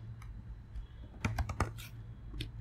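Quiet typing on a computer keyboard while entering an email address for a sign-up form: a few faint taps, then a short cluster of clicks over a low hum.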